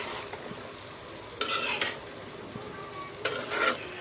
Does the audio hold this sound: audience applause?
no